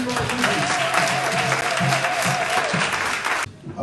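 A church congregation breaks into loud, sustained applause and cheering at a French-language worship service, dense clapping running steadily for several seconds before cutting off abruptly near the end.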